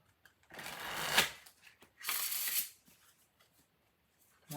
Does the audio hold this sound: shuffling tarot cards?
yes